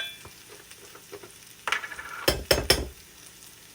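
Turmeric stirred into a hot pan while cooking a whole moong bean and grated coconut dish, with a soft background sizzle, then a spoon scraping and a few sharp metallic clinks near the end, close and without speech.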